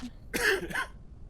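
A video game character's short cough in two rough bursts, close and clear, followed by quiet.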